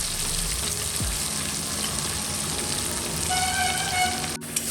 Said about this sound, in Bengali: মশলাটা এখানে খুব ভালো করে কষাতে হবে